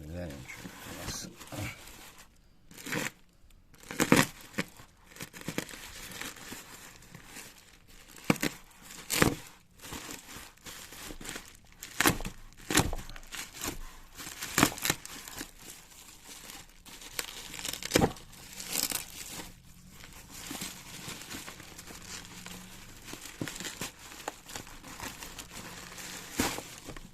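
A tape-wrapped parcel shipped from China is unwrapped, with repeated crinkling, tearing and scraping of packing tape over nearly half a minute, close up and irregular, while someone talks intermittently.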